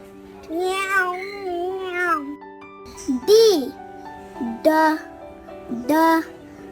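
Cat meows, three or four short rising-falling calls in a row, set within a children's phonics recitation with music and a sung or spoken voice underneath.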